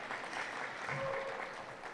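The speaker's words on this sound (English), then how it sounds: "You're welcome to clap for him as well." Audience applause for a candidate at a presidential forum on the Navajo economy, a steady, even wash of clapping that holds at a constant level throughout without breaks.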